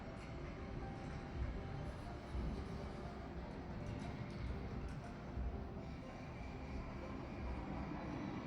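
A Jungfrau Railway train runs through the Swiss mountains, a steady low rumble and rolling rail noise heard from aboard, continuous and moderately loud with faint clatter.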